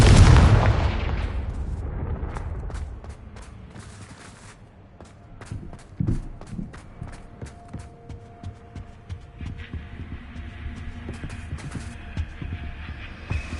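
A Confringo fire spell blast in Hogwarts Legacy opens with a loud booming burst that fades over a few seconds, followed by quieter clicks, thuds and hum.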